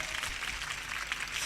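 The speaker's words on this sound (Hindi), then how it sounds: "ताली बजाकर प्रभु की महिमा करें।" A church congregation clapping in praise of the Lord during a Hindi gospel sermon: a short, fairly soft stretch of steady, massed applause.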